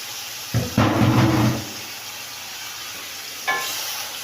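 Meat browning in garlic ginger paste in a hot pan, with a loud sizzling burst as it hits the pan, a quieter hiss, then a second sizzle flaring up near the end.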